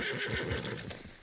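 A horse neighs loudly and close in the Red Dead Online video game, a drawn-out whinny that fills the whole moment over faint background ambience, with no talking.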